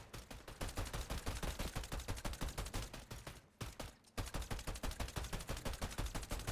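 Rapid automatic gunfire from a weapon in The Division 1 video game, a loud, steady stream of shots with a brief pause near the middle before the burst resumes.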